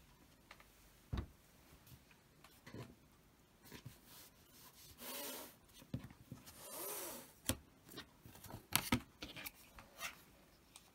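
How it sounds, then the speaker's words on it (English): A 1 3/4 inch fabric strip is cut for quilt blocks, heard as quiet close scraping and rubbing strokes with scattered light clicks and taps, faint and intermittent with no talking. "I'm going to cut the 1 3/4 inch strip before I move it"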